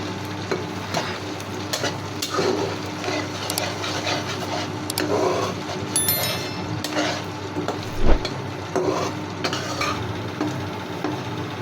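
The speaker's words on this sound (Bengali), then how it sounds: "এখন তেলের মধ্যে দিয়ে দেব 4-5টা শুকনো মরিচ এবং 1/4 কাপের 1 কাপ পরিমাণ" Dried chillies and garlic cloves fry in hot oil in a pan for a dried fish pickle, giving a steady sizzle with scraping spoon strokes and occasional clinks against the pan.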